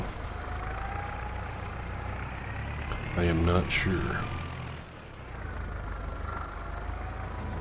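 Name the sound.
two-wheel drive tractor engine in a farming video game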